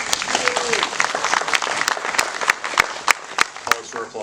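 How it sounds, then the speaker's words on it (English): An audience applauds at a speaking event, with a few sharp individual claps standing out from the steady clapping and a voice speaking over it. "Pause for applause."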